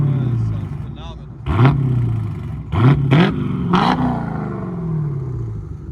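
A Dodge Challenger 392 Scat Pack with a 6.4L HEMI V8 and an aftermarket exhaust idles with a deep burble, then revs in four sharp, loud blips, each dropping back to a rumbling idle.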